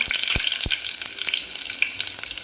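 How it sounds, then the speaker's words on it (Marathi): Chopped garlic and curry leaves frying in hot oil as a tempering for Gujarati-style yogurt kadhi, a loud, close, continuous sizzle with a few sharp spatters and stirring clicks and no voice. "आणि हा लसूण कट केलेला आहे तो पण टाकायचा आणि लगेच कढीपत्ता पण टाकून घ्यायचा"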